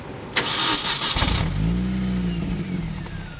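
A hot 2005 Mini Cooper S R53 engine gives a sharp burst of revving, then settles into a steady, loud, close idle with a low rumbling exhaust and some popping.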